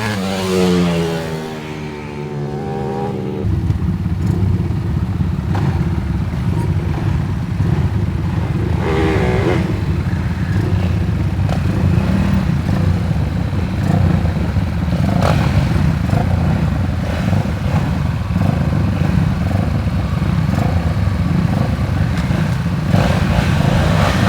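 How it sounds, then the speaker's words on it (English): Loud, continuous engine roar of racing motorcycles on a track, sustained throughout with rising and falling revs and some clatter. "J.J. Playtime Parker, he will be your third place motorcycle."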